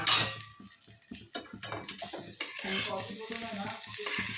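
Okra frying in a pan while being stirred, close scraping and clattering of a utensil over a loud sizzle, with bursts of hissing and sputtering.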